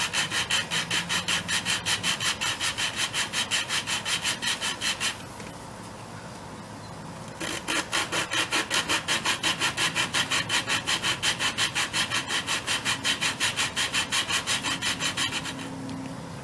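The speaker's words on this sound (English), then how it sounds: "I got some valve grinding compound on there, and just gonna go ahead and start lapping" A lawnmower engine valve is lapped with grinding compound, making a fast, rhythmic back-and-forth gritty rasp. It is close and steady, pauses for a couple of seconds midway, then resumes before stopping near the end.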